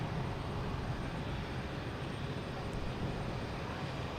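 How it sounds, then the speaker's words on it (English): Swiss Air airliner arriving from Zurich at Boston Logan Airport, a broad steady roar of jet engines heard from a distance, constant and unbroken. "Swiss Air coming in from Zurich."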